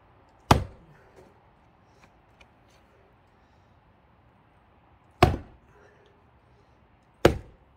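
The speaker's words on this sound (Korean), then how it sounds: "도끼질을 해서 바꿔야 될 것 같습니다" An axe strikes thick, springy firewood logs outdoors, three sharp solitary thwacks spaced seconds apart with quiet gaps between.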